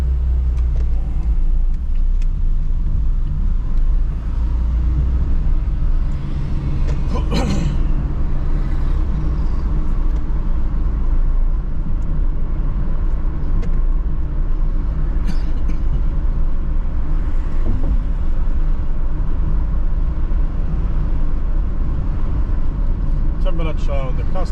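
A car travels along a seafront road in Paphos, Cyprus, its steady low road rumble and engine drone filling the cabin continuously, with a few brief knocks along the way.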